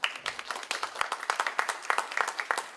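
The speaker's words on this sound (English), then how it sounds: "let's give a little round of applause for her" A round of applause at a school board meeting, with dense, steady clapping from a room of people that holds evenly for a few seconds at moderate volume.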